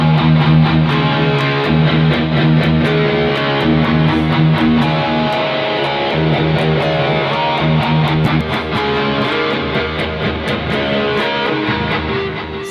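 Distorted electric guitar played through the phaser effect of a BOSS eBand JS-10, a loud, sustained riff with a swirling, sweeping tone that runs continuously, with no voices.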